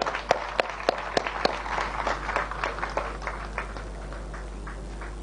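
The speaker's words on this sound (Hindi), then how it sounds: "इन सब के लिए जोरदार तालियां।" An audience at an awards event for youth achievers claps: a few sharp, loud claps at first, then scattered lighter clapping that thins out and fades over several seconds.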